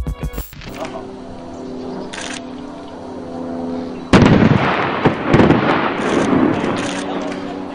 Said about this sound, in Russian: Она попала на линии электропередач, устроив при этом настоящий фейерверк.